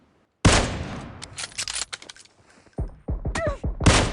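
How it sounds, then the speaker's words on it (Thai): Gunfire from inside a house in the battle royale game PUBG Mobile: loud, close bursts of rapid shots in uneven clusters with short gaps between them. "ในบ้านยิง"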